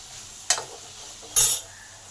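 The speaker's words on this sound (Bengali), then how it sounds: "নুন আর হলুদটাকে ভালো করে আলুর মধ্যে মিশিয়ে দিলাম দুই থেকে তিন মিনিট কষে নিলাম" Potatoes frying in a pan with salt and turmeric, a steady low sizzle broken by two brief, sharp scraping stirs, each lasting a fraction of a second, with no voices.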